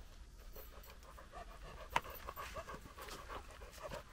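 A very large dog pants steadily and rhythmically at close range outdoors at night, with faint background noise and one sharp click partway through.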